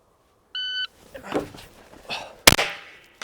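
A shot timer gives one short, steady electronic beep to start a three-step entry drill, followed by footsteps, movement noise and a sharp crack or gunshot.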